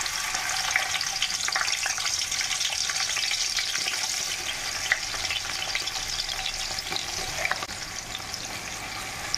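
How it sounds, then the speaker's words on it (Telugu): Thinly sliced onions drop into well-heated oil for mutton dum biryani, giving a steady, loud, close sizzle and crackle that holds evenly throughout with no voices. "ఉల్లిపాయల ముక్కలు అయితే వేస్తున్నాను."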